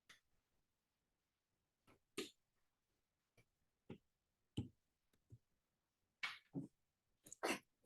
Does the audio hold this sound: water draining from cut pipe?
no